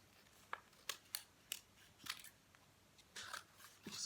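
Scissors snip the corners off a paper mask for a craft project, a series of quiet crisp cuts in an uneven rhythm, close and alone.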